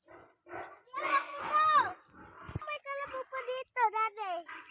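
Pigs in a pigpen on a farm squeal in a series of short, rising, wavering cries, loud and fairly close, with some quieter grunting between the bursts and no one speaking.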